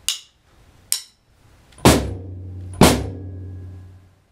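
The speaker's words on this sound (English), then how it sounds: "we're going to play the last measure, which is snare drum, floor tom, and bass all together" Snare drum, floor tom and bass drum struck together, two loud combined hits with ringing decay after two lighter taps, close and alone with no voices.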